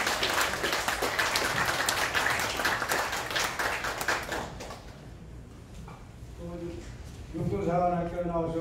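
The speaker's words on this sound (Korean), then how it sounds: "박수 한번 쳐주시기 바랍니다" An audience at an opening ceremony breaks into dense, sustained applause for about four seconds, which fades out before a voice speaks over a PA system.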